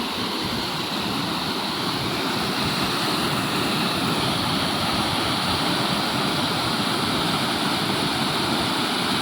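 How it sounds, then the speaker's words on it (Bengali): Floodwater rushes in a dense, unbroken roar like a torrent or weir. It stays loud and steady throughout, with no voices over it. "আপনারা জলের আওয়াজ কম বেশি বুঝতেই পারছেন"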